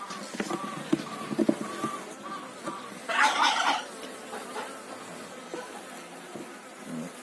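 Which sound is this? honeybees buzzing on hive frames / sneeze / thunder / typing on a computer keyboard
honeybees buzzing on hive frames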